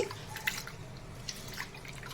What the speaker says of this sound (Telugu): ఇప్పుడు ఈ బియ్యాన్ని వాటర్ పోసుకుని శుభ్రంగా బాగా మూడు నుంచి నాలుగు సార్లు వరకు బాగా వాష్ చేసుకోవాలి